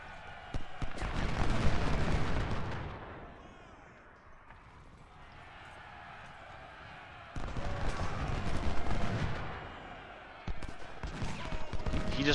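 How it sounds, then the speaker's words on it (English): Artillery and massed gunfire in a Civil War video game, two loud rumbling bursts of booming fire separated by a quieter stretch, with a voice talking throughout. "the artillery stopped up there"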